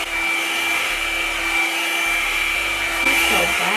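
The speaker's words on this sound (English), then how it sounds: "Let's do it on low so I can show you guys first. So just start with it at the root." A Revlon One-Step hair dryer and volumizer runs on its low setting while blow-drying hair at the root, giving a steady, close, continuous whooshing hum with a faint motor whine.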